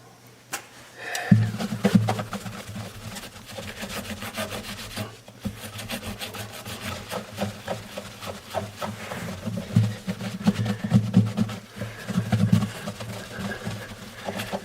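Guitar frets are polished with Simichrome, a repeated close rubbing and scrubbing in short back-and-forth strokes that continues for several seconds with no talking.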